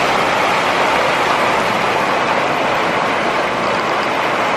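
Rain falls steadily outdoors as a dense, even hiss with no breaks and no voices.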